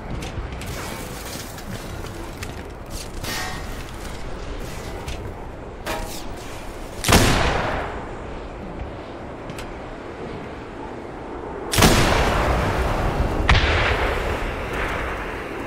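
Rocket launcher shots and explosions in the video game Black Mesa: Blue Shift: two loud blasts a few seconds apart rise out of a steady background of mechanical clanks and creaks, each followed by a rumbling decay.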